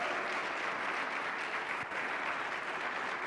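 A church congregation applauds continuously at a Spanish-language service, a dense, even roar of clapping filling the space without a break.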